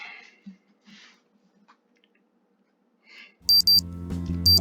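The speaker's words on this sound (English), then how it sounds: "My watch beeps, indicating it is now 20 o'clock." Wristwatch beeping in a visual novel game, a short burst of sharp, loud electronic bleeps near the end after a mostly quiet stretch.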